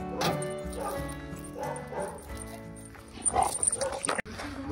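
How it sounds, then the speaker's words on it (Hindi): Many dogs bark outside a gate in the Nubra Valley, Ladakh, a busy overlapping chorus of yips, woofs and whimpers, close and steady, rising to sharper barks near the end. "अब बाहर उस गेट के बाहर इतने सारे कुत्ते हैं और सब जॉन स्नो को भौंक रहे हैं"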